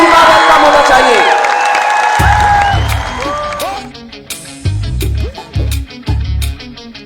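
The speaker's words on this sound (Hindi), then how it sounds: "एक जोरदार तालियों के साथ उनका वेलकम होना चाहिए।" A crowd welcoming a speaker at an AWPL event cheers loudly, with whoops and shouts. The cheering fades as music with heavy beats starts in bursts.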